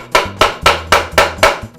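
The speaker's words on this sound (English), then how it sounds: "Now I'll lift up the sander holding only the pad support and tap on the screw with a screwdriver." A screwdriver taps on a screw to free the pad support bearing of a Porter Cable 333 series sander, six loud, close, evenly spaced metallic knocks in quick succession, with nothing else heard.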